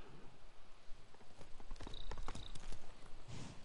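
A horse's hooves clip-clop in a quick galloping rhythm, growing louder as it approaches, with a brief whinny near the end, from the video game Ghost of Tsushima.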